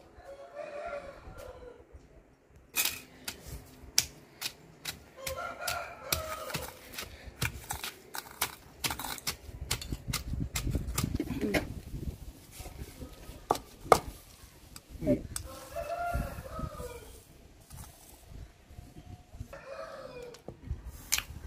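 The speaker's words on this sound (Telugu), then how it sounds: "ఇవి రోట్లో వేసుకొని ఇప్పుడు మెదుపుకోవటమే" Cumin, garlic and tamarind are pounded in a stone mortar for an okra chutney, with a steady run of close, sharp knocks and grinding thuds while roosters crow and hens cluck nearby.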